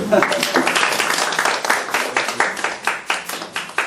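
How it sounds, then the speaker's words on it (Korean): Workshop audience in Daejeon gives a round of applause, dense overlapping clapping that gradually settles into a slower, more unified rhythmic beat, loud and close throughout. "일단 박수 한번 쳐드릴게요"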